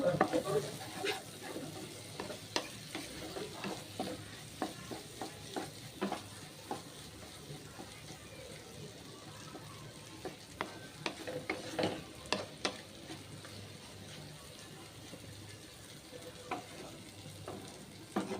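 Flattened rice pulao (chira pulao) frying with ghee while being stirred, a steady soft sizzle broken by repeated scraping clicks of the spoon against the pan, close and fairly quiet throughout.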